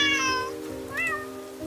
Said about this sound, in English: Oh, a little cat. She is wet and cold.